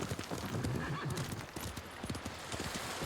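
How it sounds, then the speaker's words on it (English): Horse hooves clip-clop steadily alongside a whinny in the video game Ghost of Tsushima, the hoofbeats close and rhythmic under a busy, dense game soundscape. "I accidentally got another horse, like got on another horse"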